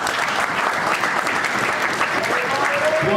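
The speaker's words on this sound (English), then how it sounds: "Give us standing a round of applause." An audience gives a standing round of applause after a speech in Dallas, producing a full, continuous roar of clapping, with a voice rising faintly near the end.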